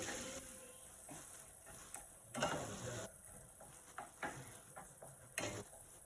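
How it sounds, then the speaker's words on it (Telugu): Chili powder being stirred into tomato chutney, heard as faint intermittent scraping and clinking of a spoon against the pot, a handful of soft strokes spaced out over quiet background, no talk. "ఇప్పుడు ఇందులోని కొద్దిగా కారం, ఒక 1 టేబుల్ స్పూన్ కారం వేసుకోవాలి. వేసుకున్న తర్వాత ఇది బాగా కలపాలి."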